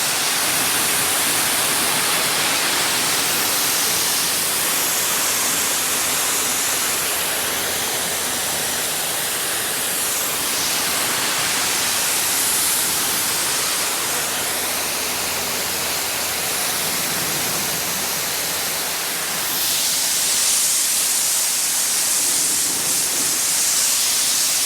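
Water spraying hard onto a car with a raptor-coated finish to rinse off soap. A loud, steady, close hiss of spray runs throughout with no talking.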